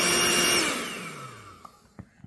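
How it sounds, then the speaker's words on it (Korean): A built-in electric air pump runs to deflate an air mattress, giving a loud whirring whine that winds down and fades over about a second and a half, followed by a few faint clicks and handling sounds. "온 하시면 바람이 쭉 빠집니다"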